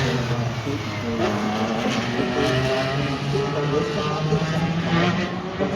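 IndyCar race cars in a practice session at the Detroit Grand Prix, a sustained loud engine drone with shifting pitch as cars pass at the track, several machines overlapping with no break.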